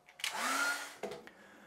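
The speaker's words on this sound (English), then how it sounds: "when we're drying it with a hairdryer, which again is a great tool" A hairdryer blows on a small watercolour painting, a soft airy whoosh that swells and holds for under a second, then cuts out with a faint sputter, heard quietly and alone.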